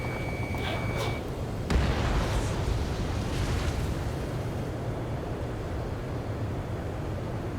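Missile explosion in the combat flight game Ace Combat 7, a single heavy boom that rises suddenly from a steady engine roar and then fades into the ongoing rumble.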